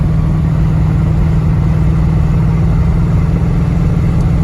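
A 1974 AMC Javelin with a 304 V8, automatic transmission and glass-pack exhaust idles loudly and steadily, its deep, even rumble close and continuous throughout.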